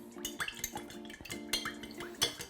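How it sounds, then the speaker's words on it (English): Metal spoon stirring honey into a cherry cocktail, quick light clinks and taps against the glass in an uneven rhythm, close and fairly quiet, with no talk. "whenever I add honey, I like to just give it a quick stir, just to get it into the actual liquid"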